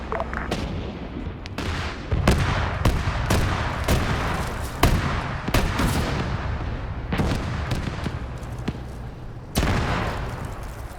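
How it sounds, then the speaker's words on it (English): Abrams tanks and BMP infantry fighting vehicles trade fire in a US-versus-Russia armored battle game, with repeated loud cannon blasts and booms, some rapid bursts, and rumbling explosions layered throughout. "The BMP's engaging. The Abrams are returning BMP fire."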